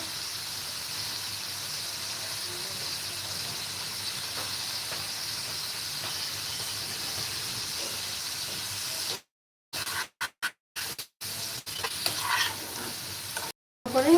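Vegetables for a special diet dish frying in a pan, a steady close hiss and sizzle running throughout, broken near the end by a few brief gaps.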